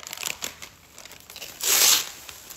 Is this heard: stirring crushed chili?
no